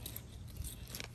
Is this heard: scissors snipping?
yes